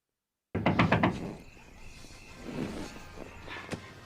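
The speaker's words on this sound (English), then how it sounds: "she knocks on the window and says" A woman raps her knuckles on a window in a Charlie's Angels film scene: a quick run of four or five close, solid knocks, followed by quieter room noise and a faint later tap.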